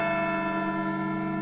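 A bell in the game Edna bricht aus rings with a sustained, resonant metallic tone rich in overtones, heard alone for a brief moment.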